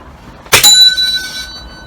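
Air rifle pellet striking a metal bell target: one sharp metallic clang followed by a bright ringing tone that decays over about a second, loud and close with no talk.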